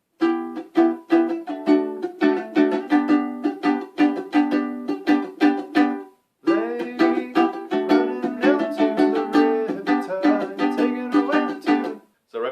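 An acoustic guitar strums the chorus chords of a song in a steady, busy rhythm, with a brief pause midway before the pattern resumes, played close and fairly loud.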